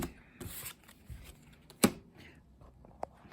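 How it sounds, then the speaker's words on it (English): Cards are shuffled in soft rustling riffles with a sharp snap partway through, close and fairly quiet. "Hold on while I shuffle."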